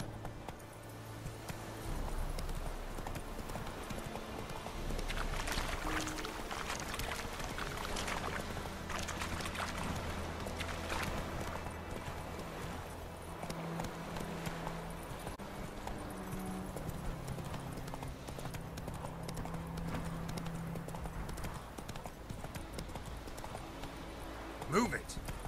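Roach, Geralt's horse in the video game Witcher III, gallops with continuous rhythmic clip-clop hoofbeats throughout, moderately close, under occasional game voices and ambient sound.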